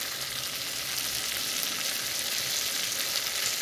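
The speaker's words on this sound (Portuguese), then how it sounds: "O filézinho tá fritando." Tilapia fillet fries in hot oil in a pan, giving a steady, close, loud sizzle with a constant crackling hiss and no talking over it.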